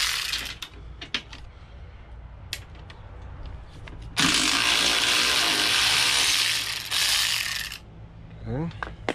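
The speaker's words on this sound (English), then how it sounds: "So, I'm gonna take off this bolt." Ratchet clicking while loosening a bolt on a motorcycle exhaust, a Honda CT70 trail bike clone, close up, with a loud steady burst of rapid ratcheting in the middle and scattered clicks before and after.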